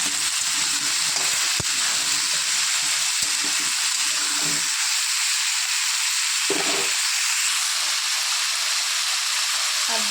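Spices are sautéed with salt and turmeric in a pan for a spinach dish, producing a continuous bright sizzling hiss with occasional stirring scrapes, steady and close.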